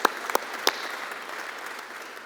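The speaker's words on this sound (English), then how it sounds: "One more round of applause for the former premier," Audience applause at a formal honouring event for a former premier, a few distinct claps standing out early over a steady, even wash of clapping from a large crowd.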